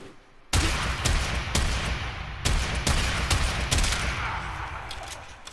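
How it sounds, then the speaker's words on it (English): The Bombard weapon in Warframe fires in a rapid, dense barrage of loud blasts that run for several seconds, one booming discharge after another with no gaps of silence, then fade slightly toward the end. "Let's start with the Bombard."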